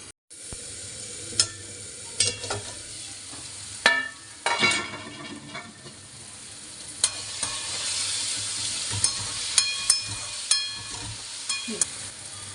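Ginger garlic paste fries with prawns in a pan: sharp clatters as ingredients go in, then a sizzle that swells louder, with repeated spoon knocks and scrapes throughout.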